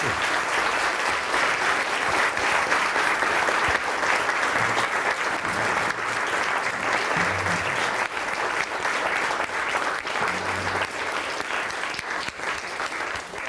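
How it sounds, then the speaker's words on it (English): Audience members at a debate event in Norway give a long, steady round of applause after a talk, a thick continuous clapping that stays even and strong throughout, with faint low voices murmuring underneath. "Well-deserved round of applause"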